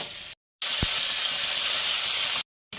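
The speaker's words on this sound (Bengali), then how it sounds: "এবার মায়া মাছগুলো ভাজবো" Maya fish rubbed with salt and turmeric sizzle loudly in hot oil, a steady close crackling hiss broken by two brief silent cuts.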